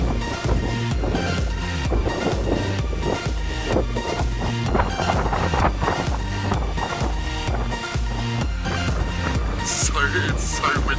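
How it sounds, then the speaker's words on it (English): Strong stormy wind on the Cornish coast, a loud, continuous roar buffeting the microphone with gusty low rumble and broadband rush throughout, no voices. "It's so windy, so stormy."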